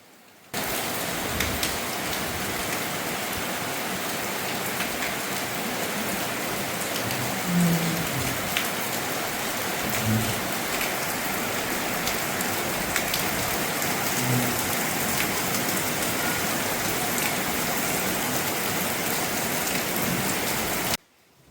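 Rain pours steadily over a rural village, a dense even hiss of drops hitting surfaces that starts abruptly and holds without pause, with no voices.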